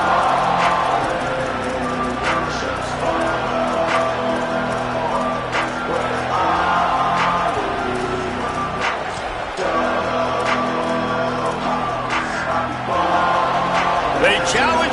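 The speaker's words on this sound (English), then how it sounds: "They challenge this crowd to bring the energy, and I'd say they're doing that." Roaring crowd at a college football stadium during a Badgers game against Louisville, a steady wall of cheering and shouting that stays loud for the whole stretch beneath an announcer's commentary.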